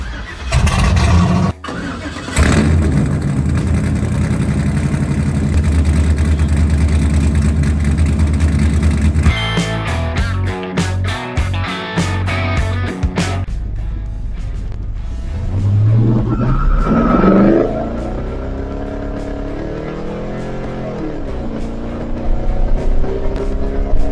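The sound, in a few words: LS-powered Chevrolet C10 truck engine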